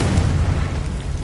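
Confringo explosion spell from Hogwarts Legacy, a loud, rumbling fiery blast with a heavy low boom sustained through the short moment.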